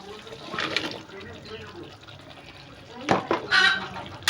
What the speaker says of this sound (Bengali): ঢেলে দিয়ে এখন এই পটলটাকে সুন্দরভাবে কষিয়ে নেব।